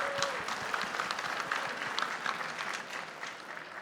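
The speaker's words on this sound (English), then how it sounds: "Let's give a round of applause for that." A hip-hop honors audience gives a steady round of applause, dense clapping sustained for a few seconds at moderate distance with no talking over it.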